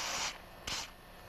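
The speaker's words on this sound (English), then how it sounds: "Now I'm going to spray the pin with penetrating oil" Penetrating oil is sprayed onto a stuck carburetor float pin on a 4-5 HP Tecumseh snowblower engine, with two short, faint hissing bursts close by.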